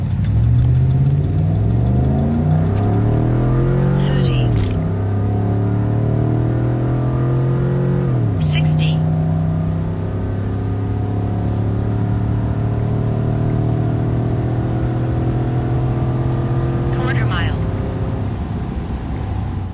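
A Chevrolet Silverado pickup with a swapped-in 6.0 liter engine on E85 with a Diablo tune makes a quarter mile run, its loud engine note climbing steadily through each gear with three distinct shifts.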